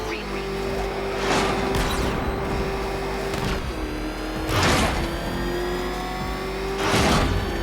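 Batmobile engine in the Batman Arkham Knight video game, revving in three loud surging bursts over a steady mechanical hum and whine, no voices.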